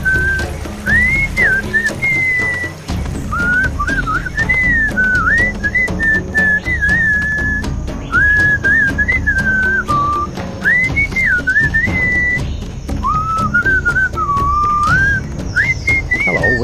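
A steady whistled melody with a chanting backdrop from the Sam & Max Beyond Time and Space adventure game, set in the Easter Island moai episode, playing loud and continuous with wavering, tuneful phrases throughout.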